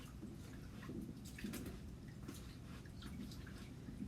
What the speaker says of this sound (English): we're gonna wash this off the rest of the way